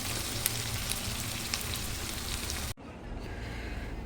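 Jackfruit seeds frying in a pan for a bhuna, a steady dense sizzle that runs loud and close before cutting abruptly and continuing more softly.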